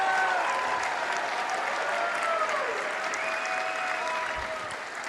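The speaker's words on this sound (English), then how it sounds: "Yes, clap for our Jewish brothers and sisters." Sustained audience applause fills a large hall at a gathering, steady and dense throughout, with a few faint voices or tones drifting above the clapping.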